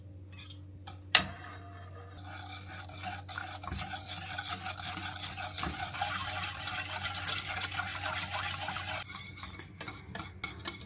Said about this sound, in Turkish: Bunları şimdi bir ocağa almadan çırpacağım.